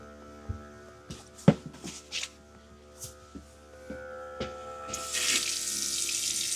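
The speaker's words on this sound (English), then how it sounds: "We'll start with the faucet inside." An RV faucet being blown out with air during winterizing gives scattered clicks and knocks over a faint hum, then bursts into a loud hissing, sputtering rush of air and water for the last couple of seconds.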